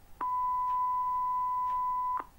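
A single steady electronic beep generated by Python's winsound beep function holds one pure tone for about two seconds, clear and unbroken, with quiet surroundings.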